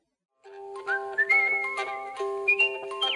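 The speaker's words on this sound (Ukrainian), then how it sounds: "Нехитре звучання музичної шкатулки і мелодійний свист." A solo artistic whistler performs a lilting melody at a whistling championship in California, clear sustained tones sliding between pitches alone over a faint music-box accompaniment.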